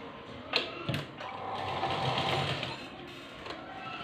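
A sewing machine stitches salwar fabric with a rapid whirring run, broken by a few sharp clicks and knocks at the start and the end, close and moderately loud, with no talk.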